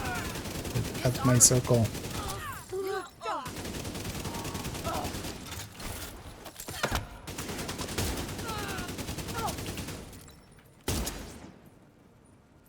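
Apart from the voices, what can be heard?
gunfire from a video game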